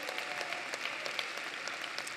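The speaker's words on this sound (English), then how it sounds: "The big Raider Nation roaring round of applause." An audience at the Alpharetta High School 2021 graduation ceremony breaks into sustained, even clapping from many hands, filling the hall at moderate volume.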